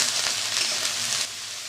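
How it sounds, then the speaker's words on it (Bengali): Soybean chunks frying in a little salted oil in a pan, a steady close hiss of sizzling that softens slightly near the end, with no talk. "সোয়াবিনটা আমি ভালো করে ভেজে নেব অল্প তেলে"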